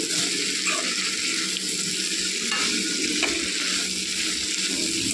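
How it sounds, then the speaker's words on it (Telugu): Cluster beans curry cooking in oil in a covered pan over a low flame gives a steady, close frying sizzle, broadband and even throughout, with faint stirring clinks and no talk. "బాగా కలిపి మూత పెట్టి మగ్గనివ్వాలండి. ఆయిల్లోనే మగ్గాలండి."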